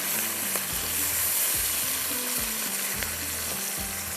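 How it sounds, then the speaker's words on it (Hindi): Tomatoes, green chillies and curry leaves fry steadily in a pan, making a constant loud close sizzle with the scrape of stirring repeating every half second or so. "टमाटर, कड़ी पत्ता। इसको हल्का सा फ्राई कर लीजिएगा।"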